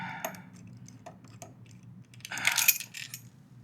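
A Torx screw comes out of a T-REX Racing skid plate on a Triumph Tiger 900 GT Pro, giving small metallic ticks and scrapes followed by a brighter clink of metal parts, close and quiet.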